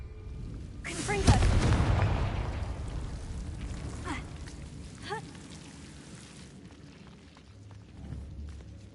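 A Confringo fire spell cast in Hogwarts Legacy lands as a loud, booming burst that then crackles and rumbles down through a series of smaller flaring impacts, with muffled game voices underneath.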